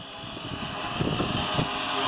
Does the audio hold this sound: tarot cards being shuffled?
no